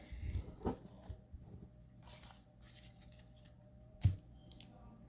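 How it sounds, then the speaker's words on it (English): Packs of old baseball cards, including 1982 Donruss, being opened by hand, with soft crinkly tearing of wrappers and cards shuffling, two sharper rips near the start and one midway, close and quiet. "I love opening these old cards."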